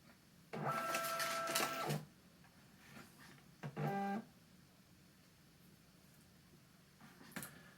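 A Neat Desk ND-1000 scanner runs calibration in color mode, giving two bursts of whirring motor and feed noise with steady tones. A short click follows in an otherwise quiet room.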